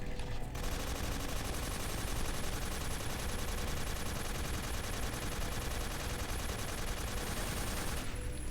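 Gunfire from the PS3 video game Metal Gear Solid 3 comes as dense, continuous automatic bursts, a loud and sustained rattle that runs for several seconds with no voices.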